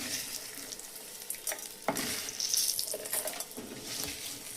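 Garlic and curry leaves roasting in a pan for coconut chutney, a soft sizzle and frying crackle with scraping stir strokes at irregular moments, close by and fairly quiet, no voices.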